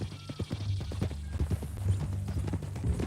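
Horse hooves clip-clopping in the Red Dead Redemption 2 video game, a steady close rhythm of hoof strikes with a brief whinny, running throughout under faint ambient game sound.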